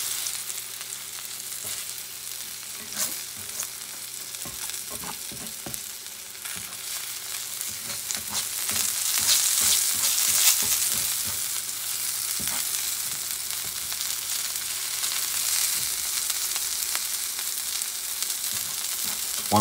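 A thick tuna steak searing in a cast-iron pan, a steady bright sizzle and crackle that swells slightly midway and continues unbroken, with no voices.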